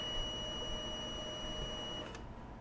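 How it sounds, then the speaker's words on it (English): A Milwaukee 2485 M18 Carry-On power station sounds a steady electronic overload alarm tone after tripping under a 3,000-watt lighting load, continuous for about two seconds, then cutting off abruptly. "we got the alarm"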